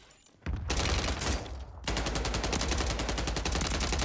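Rapid automatic fire from an FSS Hurricane submachine gun in Warzone 3 rattles out in a close, loud burst. After a short pause, a longer steady stream of shots follows, with game sounds in the background.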